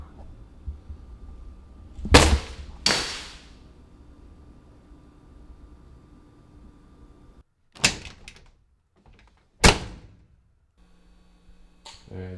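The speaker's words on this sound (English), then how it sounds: "Alright, punch sound effect." Punch sound effects recorded for film sound design: a few sharp, loud whooshing impacts, two close together near the start and two more later, separated by quiet room tone and faint background hum.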